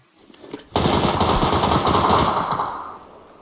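Gunfire in the video game PUBG Lite: a loud, sustained burst of rapid automatic shots that starts abruptly after a faint lead-in and rattles on for about two seconds before fading.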